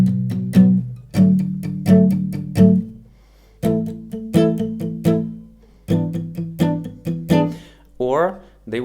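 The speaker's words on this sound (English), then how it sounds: "Many beginners, when learning guitar, including myself many years ago, would sound like this when you have to change chords." A beginner on acoustic guitar strums chords in clumsy bursts, with awkward pauses and stops between chord changes, close and clear, ending with a brief vocal sound.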